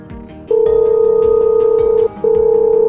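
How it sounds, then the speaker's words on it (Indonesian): A telephone ringback tone plays while a call is placed: a steady electronic tone that holds for about a second and a half, breaks off briefly, then resumes. It is loud and clear, with faint background noise and no talking. "Iya, aku telepon Lala sekarang."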